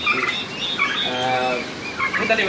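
Turkeys on a farm gobble and call, a close, busy stretch of overlapping throaty bird calls without talk.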